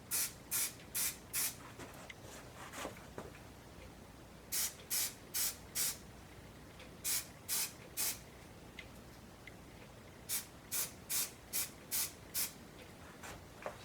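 An aerosol can of adjustable-nozzle spray glue releases a series of short, sharp hissing bursts in three clusters of about four to six sprays each, close and loud over a quiet room, with no talking.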